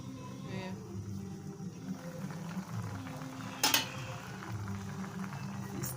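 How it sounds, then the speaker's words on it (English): A pot of catfish pepper soup being stirred and covered, with a steady low bubbling simmer throughout and one short bright clatter of a lid or spoon against the pot midway. "I'll now stir and cover the pot and allow it to cook for 5 more minutes"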